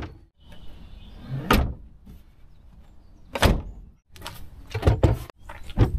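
The rear boot of a Peugeot Partner micro camper van is pulled down and shut, giving a few loud thunks and rattling latch impacts close by, spaced unevenly over several seconds with quieter handling noise between.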